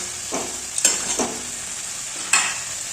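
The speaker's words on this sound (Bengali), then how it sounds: "সুন্দরভাবে মশলাটাকে নেড়ে ছেড়ে নিতে হবে মাংসটার সাথে।" Chicken pieces stirred with masala in a pan for a potato chicken curry, a steady sizzle with three distinct scraping stirs of the spoon, close and clear, no voices.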